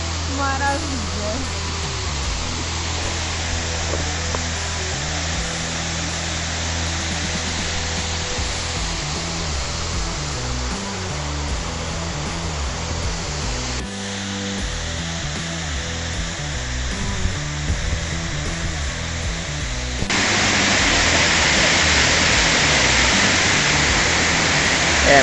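Steady roar of a waterfall at the top of a cascade on a park trail at Parque Municipal Lago Azul, broadband rushing noise throughout that swells louder near the end, with people talking over it.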